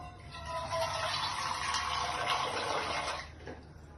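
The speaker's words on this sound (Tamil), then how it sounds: "1 ஆளாக்கு தண்ணி ஊற்றிட்டு கிண்டி விட்டுருங்க" Water is poured from a cup into a cooking pot for rice, a steady splashing pour that lasts about three seconds at moderate volume and then stops.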